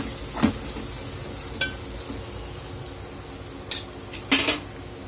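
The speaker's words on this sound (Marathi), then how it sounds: "आपण यामध्ये हळद घालून घेणार आहोत आणि परत एकदा आपण मिक्स करून घ्यायचं आहे" Tomatoes sautéed with turmeric are stirred in a pan, a spoon scraping and clinking against the metal at a few scattered moments over a soft, steady background sizzle, with no voices.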